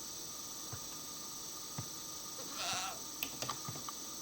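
Goat bleats from the Minecraft 1.18 experimental snapshot, heard as a brief, faint cry over a steady electronic hum with a few soft clicks afterward.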